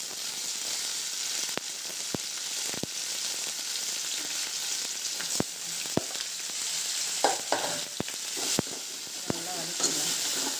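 Onion and tomato sautéing in a pan for a fish sambal with anchovies, a steady sizzling hiss broken by occasional sharp clicks of stirring against the pan.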